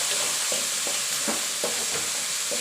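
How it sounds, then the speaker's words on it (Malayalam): Ivy gourd (kovakka) stir-fry being stirred in a pan, a dense continuous sizzle with rhythmic scraping strokes about every half second, close and alone. "ഉപ്പിട്ടിട്ട് വീണ്ടും നമ്മൾ നന്നായി ഇളക്കി കൊടുക്കുക"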